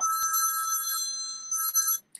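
Electronic telephone ringing in bright repeating trills, one long burst, a short pause, then a second burst, clear and close with no talk.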